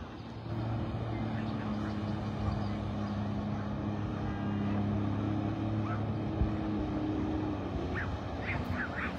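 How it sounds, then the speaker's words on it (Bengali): A speedboat runs on open water at a scenic spot in Canada, its engine a steady, continuous drone that holds at moderate distance for the whole stretch. "স্পিড বোট আপনারা দেখছেন চালাচ্ছেন"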